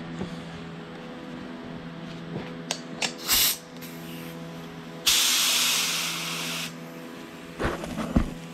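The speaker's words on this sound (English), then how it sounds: "I just sprayed a decent promoter, and I got the color in here." An aerosol can sprays adhesion promoter in the engine bay of a 1983 Volvo 240 with a K24 engine swap: short hissing bursts, then one longer steady spray, close and loud.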